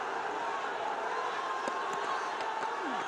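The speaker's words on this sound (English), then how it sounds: "Vociferous crowd here." A large crowd at Sharjah Cricket Stadium during an Afghanistan versus Bangladesh one-day international keeps up a steady, distant roar and hubbub throughout, with no break.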